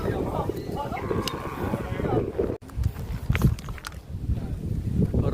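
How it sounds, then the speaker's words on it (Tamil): Steady, strong wind buffeting outdoors at Sigiriya Lion Rock, Sri Lanka, with a rough, rumbling low roar, broken briefly by a sudden gust dropout midway. "காற்று மட்டும் பஞ்சமே இல்லை, நல்லா காற்றடிக்குது"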